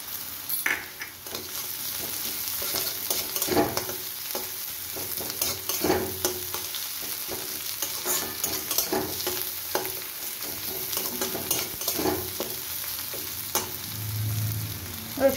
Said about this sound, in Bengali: আমার পেঁয়াজটা ভাজা ভাজা হয়ে এসছে, এবার আমি এর মধ্যে রসুন কুড়োটা দিয়ে দেবো